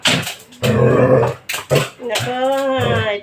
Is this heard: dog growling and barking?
yes